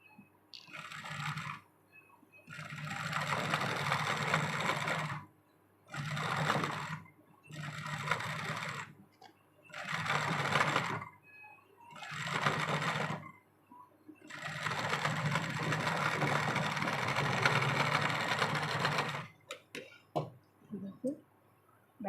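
An electric sewing machine top-stitching a blouse runs close by in repeated bursts, some short and one long steady run, with quiet pauses and light clicks between them.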